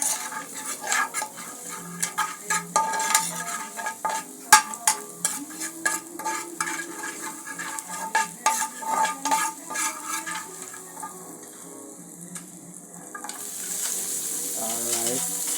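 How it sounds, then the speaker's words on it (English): Vegetables with seasoning tossed and stirred in a frying pan: irregular scraping and clinking of a utensil against the pan over a soft sizzle, with a voice talking at times. "Mix vegetable with the seasoning."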